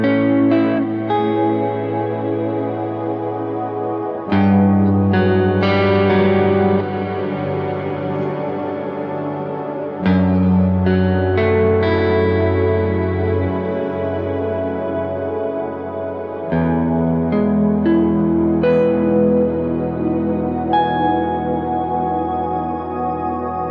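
Sustained electric guitar notes and chords played through a Kemper Profiler, washed in a lush reverb cloud with chorus-like shimmer; tones ring out and overlap in several distinct phrases, with some dissonance building in the tail.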